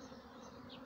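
Honeybees buzzing at a hive in cold weather, a steady low drone heard briefly and close.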